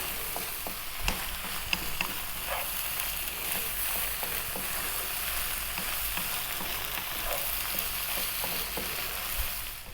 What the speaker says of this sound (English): So I'm going to be another 3 or 4 minutes, stirring all the time.